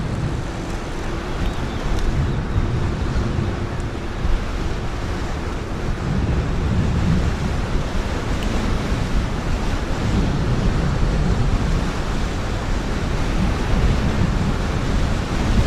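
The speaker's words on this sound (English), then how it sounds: "It's a little breezy." Gusty wind blowing outdoors along a valley road during a tandem bike trip near Burgos, a steady broadband roar buffeting the microphone for the whole stretch, loud and continuous with no voices.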